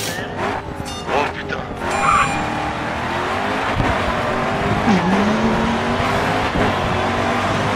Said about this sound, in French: Écoute donc le moteur de cette voiture.